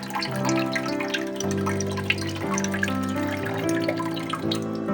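Potatoes being rinsed in a kitchen: continuous running and splashing water with small drips and sloshes, moderately close and steady throughout, no voices.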